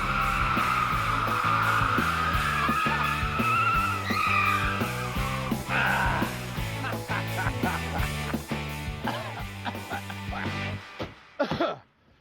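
A junked car to be dropped from a crane, driven with tires squealing and engine droning loudly for about ten seconds before cutting off abruptly.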